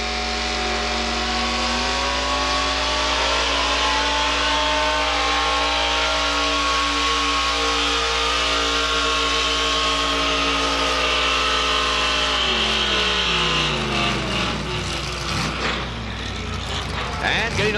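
A pulling truck named Temper Tantrum launches at a truck and tractor pull, its engine roaring loud with strong harmonic drone that shifts as it revs, a commentator talking over it throughout.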